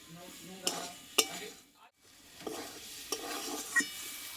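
Gati kochu (taro) stir-fried in a pan, with a steady low sizzle broken by sharp scraping and clinking spatula strokes about every half second, close and moderately loud, with a brief lull midway.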